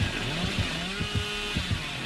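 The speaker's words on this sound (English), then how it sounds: "Come on, Snar, show us that chainsaw, boy." A killer's chainsaw in Dead by Daylight revs with a rising, droning engine whine and rhythmic sputtering pulses, loud and close, alone without talk.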